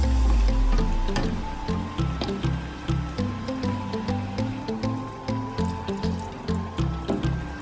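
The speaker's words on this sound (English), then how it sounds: "Then use a spoon to just splash some extra oil to the top." Hot oil sizzling and spattering as it is spooned over lemon mandazi frying in a pan, a steady crackle broken by rhythmic splashes every half second or so, close and fairly loud with no talk.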